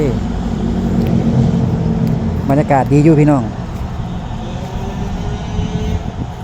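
A continuous rumble of passing road traffic hums under someone talking, with a brief revving engine swell in the middle.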